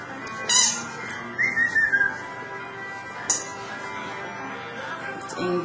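A cat meows a few times, one rising cry near the start and later faint calls, over a quiet indoor background.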